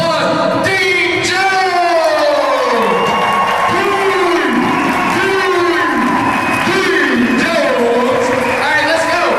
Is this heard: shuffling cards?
no